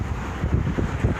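Strong gusty wind buffets the microphone while someone rides slowly along an open road in New Mexico, a loud rumbling roar that swells and dips without pause.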